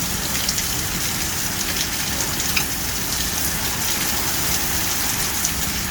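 Heavy rain after a hail storm in Norman, Oklahoma, a dense steady roar of downpour on surfaces, loud and continuous with faint droplet patter throughout.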